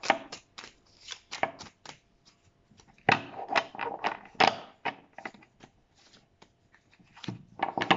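Tarot cards shuffled by hand, close and crisp, in bursts of quick papery riffles and flicks separated by short pauses.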